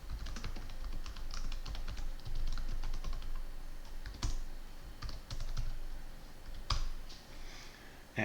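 Steady, close typing on a computer keyboard while entering code, with irregular clusters of key clicks and a few sharper, louder strikes, heard alone.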